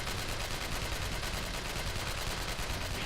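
Dense, continuous automatic gunfire in the shooter game Chernobyl Commando, rapid overlapping shots from several directions filling the whole stretch at steady high volume with no talking.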